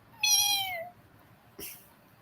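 A clear, drawn-out cat meow sounds up close and loud, followed after a pause by a shorter, softer meow.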